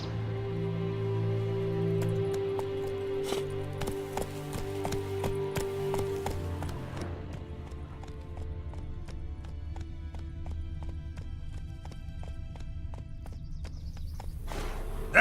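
Horse hooves clip-clop steadily from Roach, Geralt's mount in The Witcher 3: Wild Hunt, with a brief whinny early on, up close and busy under a droning game score.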